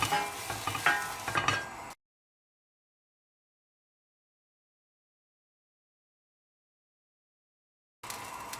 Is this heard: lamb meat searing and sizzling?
yes